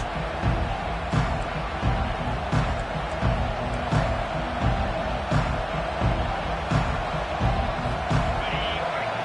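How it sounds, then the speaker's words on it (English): A stadium crowd at a football game keeps up a dense, steady roar with rhythmic swells and thumps, sounding distant and continuous with no clear voices on top. "Listen to the crowd energy here in the early going."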